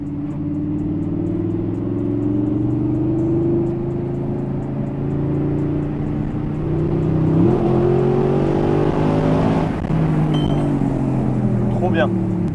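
An Audi R8 V8 drones steadily while driving, its note rising and falling with throttle changes, heard from inside the cabin as a continuous mid-level rumble.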